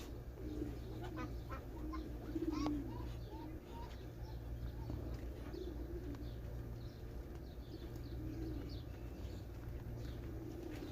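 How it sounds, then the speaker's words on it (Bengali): Soft pigeon cooing amid a busy background murmur at a late-night market in Riyadh, Saudi Arabia, with a few faint chirps and low steady hum throughout. "এখানে দেখতেছি যে অনেকগুলো কবুতর"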